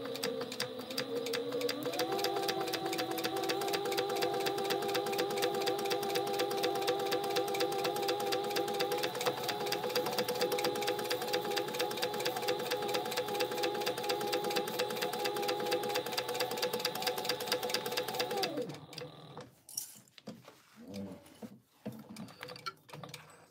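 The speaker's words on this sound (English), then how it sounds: "we're gonna back stitch at the beginning and the end." A sewing machine stitches a fabric pouch with a stay stitch, backstitching at the start and end. It runs with a close, steady, continuous whir and rapid needle clatter for about eighteen seconds, then stops, leaving a few soft handling sounds.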